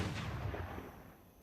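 Artillery fires in a video game: a single booming shot that rolls and fades over about a second and a half, heard alone without talk.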